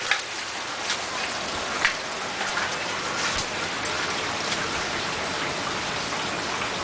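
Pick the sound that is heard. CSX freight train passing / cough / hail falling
hail falling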